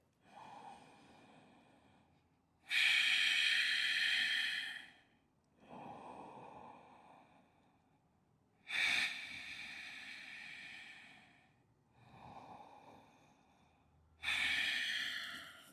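Slow, deep breaths during a strength-building yoga pose: long, audible inhales and exhales alternate in a steady rhythm, close and fairly quiet, with no talking.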